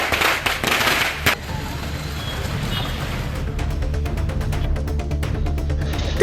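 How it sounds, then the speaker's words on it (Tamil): BJP supporters set off strings of firecrackers celebrating an election victory, a rapid crackling barrage of sharp pops over a steady street din, with crowd voices and a louder single bang early on. "பாஜகவினர் பட்டாசு வெடித்து கொண்டாடினர்."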